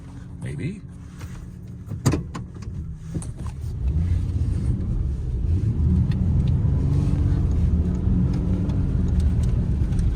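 A Ford F250 pickup truck driving in four-wheel drive low range, its engine rising to a steady close drone after a few clunks and knocks, with people talking over it.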